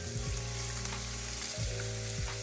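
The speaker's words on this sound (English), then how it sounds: "now I'm giving the shrimp a flip" Shrimp seasoned with salt and pepper sizzle loudly in a hot pan, with a few distinct scraping sweeps as they are flipped, close and continuous with no talking.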